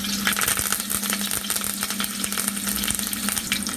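Curry leaves and green chilli sizzling hard in hot oil after mustard seeds pop, a dense crackling spatter close by with a steady hum beneath.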